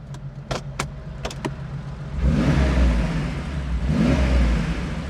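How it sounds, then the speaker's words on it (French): A Porsche 911 Carrera 3.2 engine idles after a few clicks, then is blipped twice in strong rising revs that swell and fall back, loud and close. "Un petit coup avant de couper le moteur"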